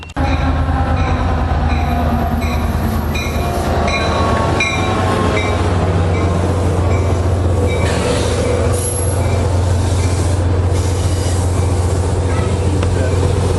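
A rebuilt GP40 diesel locomotive train rumbles past close by, its deep engine drone steady under rattling wheels and metallic squeals from the cars.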